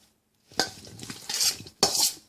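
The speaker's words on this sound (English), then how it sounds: "now I have a handy dandy spoon, and I'm going to just mix this up a little bit" A spoon stirs a cucumber and tomato salad in a bowl, giving wet, clattering scrapes in two close bursts after a short silence.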